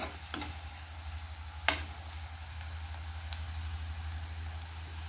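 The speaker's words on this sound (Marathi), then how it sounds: "इथे थोडीशी हळद पावडर टाकते। छानपैकी सोनेरी होईपर्यंत परतून घेऊया आपण।" Onions with turmeric powder sauté in a pan toward golden, giving a faint, steady sizzle with a couple of sharp utensil clicks against the pan. No voices are heard.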